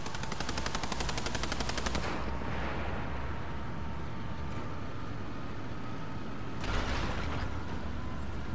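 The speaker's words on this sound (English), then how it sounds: "I think that MG fire was Russian." Rapid machine gun fire from a Russian vehicle during a War Thunder tank battle, a dense rattling burst for about two seconds that gives way to rumbling battle noise, then another short burst near the end.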